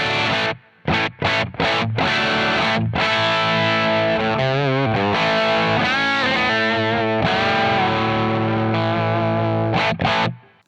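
Electric guitar through a Protein V4 overdrive pedal on a pedalboard, playing distorted chords and sustained notes with gritty harmonic crunch, loud and continuous with brief gaps at the start and end.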